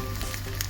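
Sriracha sizzling in a pan on a small camp stove outdoors in cold, windy Arizona desert, a steady close hiss and crackle throughout a brief moment.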